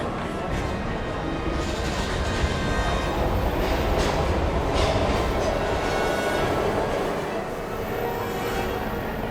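A train rumbles along in Heavy Rain, a loud, continuous roar of rolling wheels and rattling cars with faint clatter, slightly swelling in the middle, with some voice-like sound mixed in.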